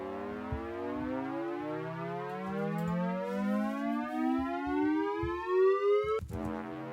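Synthesized dubstep riser built in Logic Pro with unison voices, a dense stack of detuned tones gliding steadily upward in pitch for several seconds, loud and continuous, then cutting off abruptly near the end.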